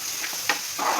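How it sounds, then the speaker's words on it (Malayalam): Ginger, garlic, curry leaves and green chillies fry in hot oil for a mango pickle, giving a brief, continuous sizzle with a light stirring scrape midway. "ഇതൊക്കെ എണ്ണയിൽ കിടന്ന് നമ്മൾ മുരിയട്ടെ."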